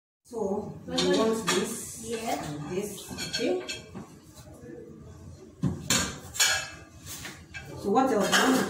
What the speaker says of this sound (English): I need a spoon to mix it.